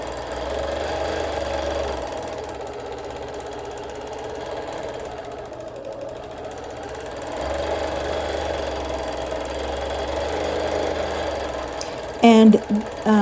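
A sewing machine does free-motion quilting on a feather-patterned quilt, its needle motor running in a steady rapid chatter that swells and eases over several passes, close and continuous, with a brief burst of clicks near the end.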